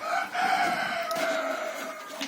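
Chickens cluck and call close by, a busy overlapping chorus of hen sounds with a drawn-out crow-like cry running through it.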